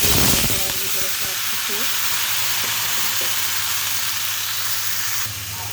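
Chopped vegetables go into hot oil in a wok for a mixed vegetable niramish: a loud burst of sizzling at the start settles into steady frying and hissing, close and continuous, with faint clatter early on.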